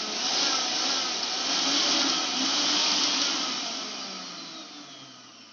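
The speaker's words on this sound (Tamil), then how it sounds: "இப்போ மிக்ஸி ஓடுதான்னு செக் பண்ணலாம்." A kitchen mixer grinder whirs at a steady, high-pitched drone, running continuously and close by before easing off slightly near the end, tested after an overload switch replacement.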